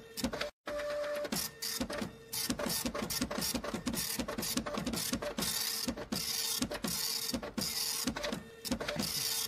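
A printer sound effect whirs and clatters steadily and loudly. Rapid mechanical ticks and feed pulses repeat without a break except for one brief dropout near the start, and no voices are heard over it.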